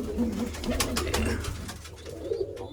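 Pigeons coo in soft, repeated low throaty phrases, close by, with occasional sharp clicks and rustles between calls and no voices.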